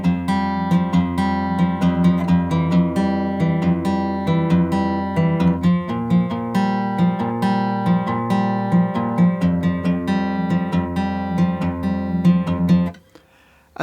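Fingerpicked guitar plays a repeating passage of plucked notes and bass, clear and close, then stops abruptly near the end.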